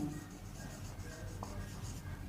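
Marker or chalk scratching across a classroom board during an English grammar lesson on the future perfect continuous, a steady soft scraping that runs the whole moment over low room noise.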